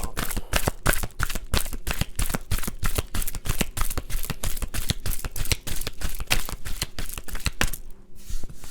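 Tarot cards being shuffled by hand, a rapid run of crisp riffling flicks in a fast, even rhythm, close and loud, stopping abruptly near the end.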